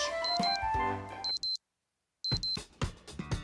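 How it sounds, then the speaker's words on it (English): A short series of high electronic beeps from a wristwatch, bright and clipped, with a brief silent gap before more beeping and clicking sounds resume. "Just then, Pete hears a beep."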